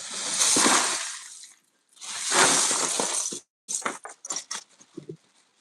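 Water poured from one container into another, two long broadband gushes separated by a short pause, then a run of short splashes and drips as the pour tapers off, close and fairly loud with no talk.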